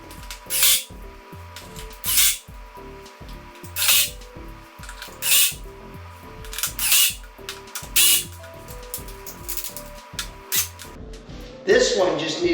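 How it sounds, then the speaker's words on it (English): Power drill driving screws into the wood of a height-adjustable computer desk, with short repeated bursts of whirring spaced about every one to two seconds, close by, while a person talks between runs. "Okay, so we'll put the screws in, and here we go."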